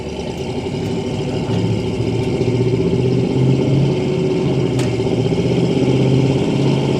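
A 1985 Chevrolet K10 pickup with a 305 engine drives along, its steady mid-pitched engine drone and road rumble loud and continuous from inside the cab.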